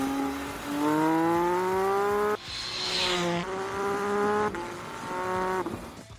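MV Agusta Enduro Veloce motorcycle engine revving hard toward high RPM in rising sweeps, a brief break, then further climbing revs; loud, close and with no voices.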